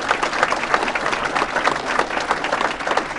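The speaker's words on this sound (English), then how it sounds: "let's give Jason a round of applause" Conference audience at a startup event in Los Angeles clapping for a speaker, a steady, fairly dense round of applause from a medium-sized crowd, with no talk over it.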